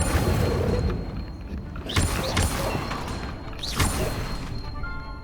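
In Hogwarts Legacy on PS5, the Incendio fire spell is cast twice: each cast is a whooshing burst with a dull boom, the two spaced a couple of seconds apart over a continuous rumbling game background.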